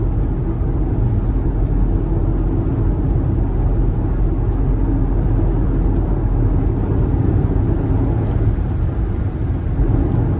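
A Ford Mustang Mach-E electric car cruises on the interstate, heard from inside as a steady, loud broadband road and wind rumble with no engine note, unchanged throughout.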